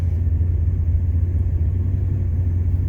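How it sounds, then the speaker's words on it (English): A 1979 Trans Am V8 with head work, a mild cam, an Edelbrock intake and carburetor idles with a steady, deep rumble that stays close and even throughout, with no talk over it. "Starts right up, motor's nice and tight."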